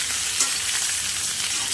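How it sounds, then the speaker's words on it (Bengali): Boiled potato sizzles loudly in hot oil with hog plum, a dense, close crackle as the pan is stirred, steady throughout with no voices. "এখন আমি এই যে আলুটা, সেদ্ধ আলুটা ফেলে দিচ্ছি তেলের মধ্যে"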